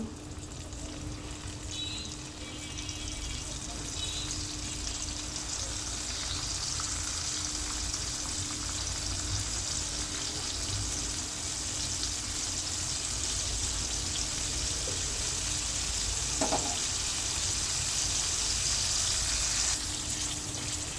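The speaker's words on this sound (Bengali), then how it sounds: "মাছগুলো ভাজা হয়ে গেছে" Pangas fish fry in hot oil, giving off a steady, close sizzling hiss that carries on unbroken without any talk.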